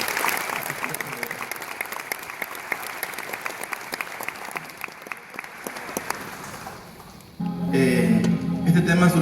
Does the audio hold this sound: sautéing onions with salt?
no